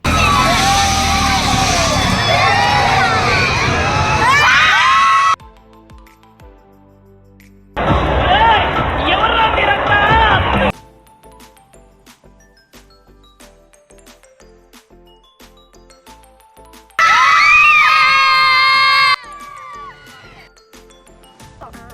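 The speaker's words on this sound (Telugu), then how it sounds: "వీళ్ళ అరుపులతో నాకు చెవ్వంతా నొప్పి వస్తుందండి" Loud crowd of children screaming in bursts, several seconds each, separated by quieter stretches with distant rhythmic ride noise, at a fairground ride at an exhibition.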